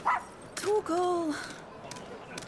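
Torgal, the dog companion in Final Fantasy 16, gives a short high yip followed by whimpering, pitch-sliding barks and whines, close and clear, with faint background game sound.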